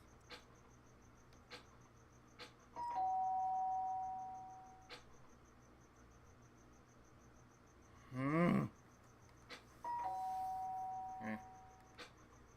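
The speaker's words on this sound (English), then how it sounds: "The sharp sound of the doorbell pierced my sleepy haze and pulled me back to the real world." Doorbell in the Danganronpa: Trigger Happy Havoc video game rings with a short, sharp, buzzy chime amid soft tonal beeps and faint clicks, with a steady quiet hum underneath.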